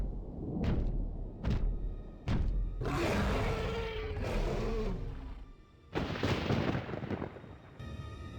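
A Greater Storm Beast in the video game Star Wars KOTOR II lets out loud roars after a few heavy thuds, with booming bursts and growls spread across several seconds.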